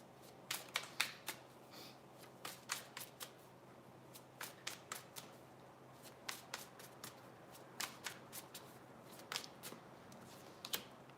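A deck of tarot cards being shuffled up close in a quiet room, a steady run of crisp riffling snaps and flicks arriving in short clustered bursts throughout.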